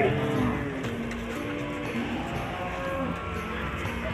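Cattle moo at a calf livestock market in Ambarketawang, with low, drawn-out calls over a constant, dense market din.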